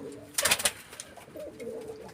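Pigeons coo softly nearby, opening with a brief rustling burst, then gentle throaty calls trailing off.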